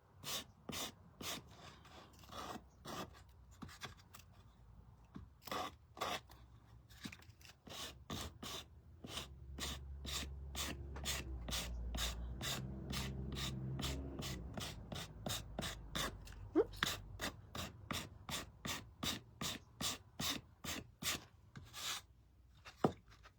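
Sandpaper rubs over a painted wooden figure to distress and chip the paint, a long series of short, sharp scratchy strokes in a steady rhythm, heard up close and faint with no talking.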